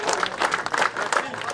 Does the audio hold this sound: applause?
yes